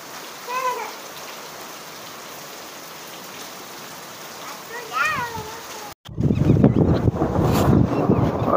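Rain falling with hail makes a steady soft hiss with a couple of brief high cries, then breaks into a much louder, dense drumming clatter for the last few seconds.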